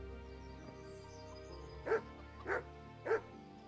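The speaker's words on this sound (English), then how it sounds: "Hi, dog." A dog in the medieval video game Kingdom Come Deliverance barks three times at an even pace over a steady low background hum, moderately loud and alone with no talk.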